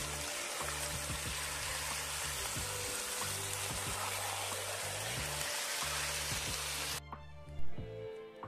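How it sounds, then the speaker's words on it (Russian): Marinated meat sizzles and fries in a kazan over a campfire outdoors, a loud continuous crackling hiss that cuts off abruptly near the end, leaving a quieter moment with a brief thump. "жарить мясо."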